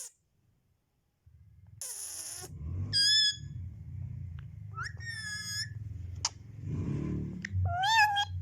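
A pet parrot mimics a cat's meow in a series of short, bright, whistly meows with rising and falling pitch, heard close up indoors over a low background hum.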